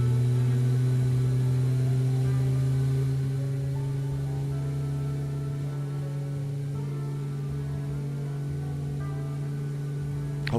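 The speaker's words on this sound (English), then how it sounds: "Hope the jet engine noises don't bug your headache too much." A steady jet engine drone from a flight simulator game, with strong low tonal hum bands and a broad whine, holding constant and loud throughout without talk.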